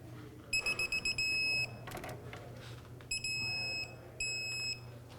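A torque wrench on a 2003-2007 Nissan Murano rear upper control arm bolt gives short repeated electronic beeps, then longer sustained tones at 77 foot-pounds, loud and close in a quiet garage.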